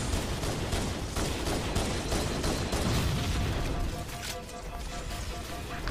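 Pistol fire in Halo CE comes as dense, rapid overlapping shots within a loud, cluttered combat mix, easing slightly toward the end.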